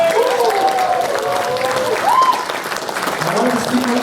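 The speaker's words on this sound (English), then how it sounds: "Big round of applause, guys." A large crowd applauds steadily at the opening ceremony of the Anirevo Toronto 2025 convention, with cheers and whoops rising over the constant clapping for the whole four seconds.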